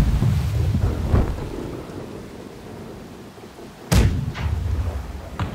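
Ship cannons firing in Blackwake, a deep rumbling blast early on, then a sharp loud boom followed by rolling echoes and further thuds, heavy and low like distant thunder.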